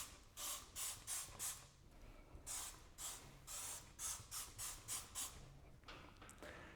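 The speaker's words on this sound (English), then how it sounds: "all you need to do is just spray it straight onto the surface" Repeated short bursts of a spray bottle hissing cleaner onto a kitchen wall or ceiling before painting, about a dozen quick pumps in uneven clusters, close and fairly quiet.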